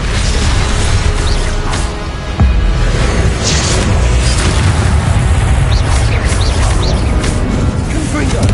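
Rumbling blasts and crackling bursts from the Confringo fire spell in the Hogwarts Legacy video game, a dense continuous barrage of booms with a voice shouting over it throughout.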